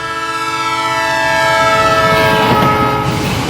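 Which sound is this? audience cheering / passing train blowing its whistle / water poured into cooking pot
passing train blowing its whistle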